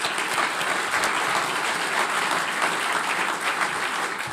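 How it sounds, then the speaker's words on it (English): A conference audience at a morning session breaks into sustained, steady applause, many hands clapping evenly throughout with no voices over it. "could we all please give them another round of applause?"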